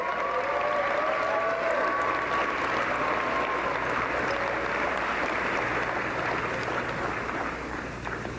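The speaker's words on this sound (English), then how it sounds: "Round of applause for them." At the Ontario Parasport Games opening ceremony, a large crowd applauds the Afiwi Dance Group, a soft, continuous wash of distant clapping in a big echoing venue with a low background hum and faint tonal sounds.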